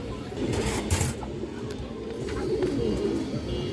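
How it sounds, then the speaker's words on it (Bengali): Several pigeons, including green-necked birds kept for sale, cooing in low rolling murmurs close by, steady throughout with a brief louder flutter near the start. "দর্শক কাজ লাগিয়ে একটা মাদি কবুতর"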